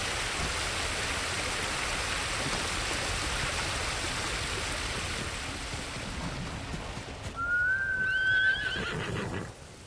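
A horse whinnies near the end in the video game Ghost of Tsushima, rising over steady rushing ambience like wind or water that fills the whole stretch.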